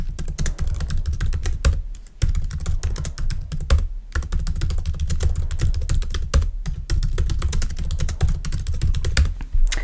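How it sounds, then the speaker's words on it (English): Rapid, steady typing on a computer keyboard entering search keywords, dense close key clicks with a few brief pauses, no voices. "So I'm going to go ahead and type mine in."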